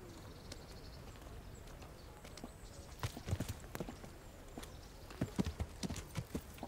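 Horse hooves clip-clop on ground in the medieval video game Kingdom Come: Deliverance, irregular thuds growing louder and closer toward the end over faint ambient birdsong.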